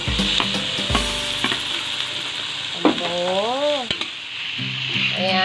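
Tofu sautéing in a pan with onions, a steady sizzle with scraping stirs of a utensil, close and fairly loud, and no voices.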